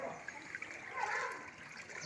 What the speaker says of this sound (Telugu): నీళ్ళు బాగా నడుతున్నాయి